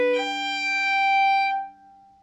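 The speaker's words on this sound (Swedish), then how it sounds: "Men fiolen har lite ljusare toner." A bright, singing violin note with clear harmonics, held steadily then cut off, leaving a faint ringing tail.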